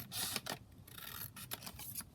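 Scissors snip across the top of a double envelope pocket page in a craft session, giving several short papery cuts and rasps at close range with no talking.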